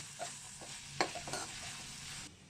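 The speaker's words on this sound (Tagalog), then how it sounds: "Sama na natin itong tofu dito sa pork. At haluin natin para magkaroon din yan ng lasa." Tofu and pork are stirred in a frying pan, giving a soft continuous sizzle with scraping and clinking from the utensil, fairly quiet and close, with no talking.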